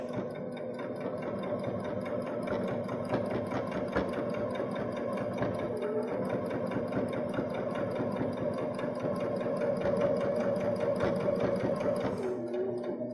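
A Baby Lock Jazz II sewing machine with a plain hemmer attachment stitches a hem, running as a continuous close whir with rapid, even needle pulses for the whole stretch and a slight rise near the end.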